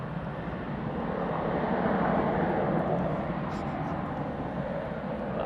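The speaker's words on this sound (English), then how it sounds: "I can't tell you how loud it is when you're right next to the A380 as close as we are and they get those reverses going on it" Loud, close roar of an Airbus A380 applying reverse thrust while landing, a dense sustained rush of engine noise that swells and holds.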